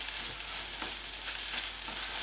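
Onion and egg curry with turmeric frying in a pan, giving a steady, close, even sizzle that crackles softly and continuously throughout, with no voices.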